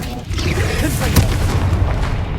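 A Confringo spell blast from the video game Hogwarts Legacy booms loudly around the middle, a sharp fiery burst rising over dense, continuous game effects and rumbling background noise.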